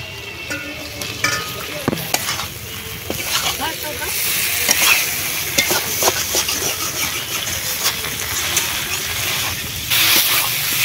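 Fried potatoes and pointed gourd stirred in mustard and cumin paste in a hot pan, a steady loud sizzle broken by frequent scraping and clattering of the spatula against the pan.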